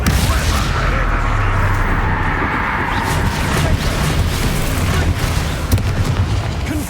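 Bombarda blasting spell in Hogwarts Legacy combat: a loud, sustained low booming roar with rumbling debris and scattered sharp cracks and pops layered on top, continuing for several seconds.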